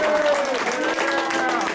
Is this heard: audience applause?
yes